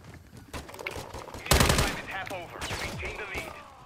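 Gunfire from an automatic weapon, several short bursts and one loud sharp volley near the middle, with a voice talking faintly in between.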